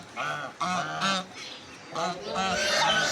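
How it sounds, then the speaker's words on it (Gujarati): Ducks at a cow shelter give several loud, close, nasal honking quacks in bursts, one after another with short gaps between. "ગૌશાળાની અંદર બતકો પણ છે."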